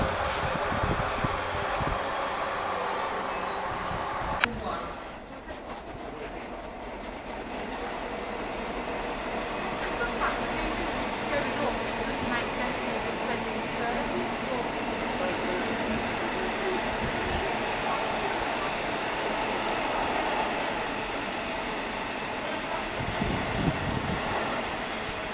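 An East Midlands Railway train at Derby station gives a continuous broad rumble and hiss lasting the whole stretch, with a brief clank near the start and a steady roar throughout.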